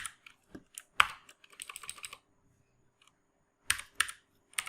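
A short command is typed on a computer keyboard for the Shopify CLI, heard as close, crisp clusters of keystrokes with a pause before a final burst.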